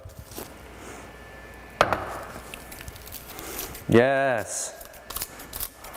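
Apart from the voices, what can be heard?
scissors cutting nori sheets into strips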